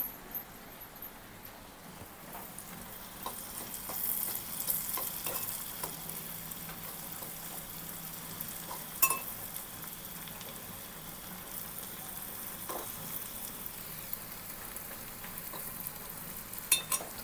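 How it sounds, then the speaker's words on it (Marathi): Garlic roasts in a pan with a soft, steady sizzle, faint and close, broken by occasional light clicks and scrapes of stirring. "फक्त आपल्याला लसूण थोडीशी भाजून घ्यायची आहे"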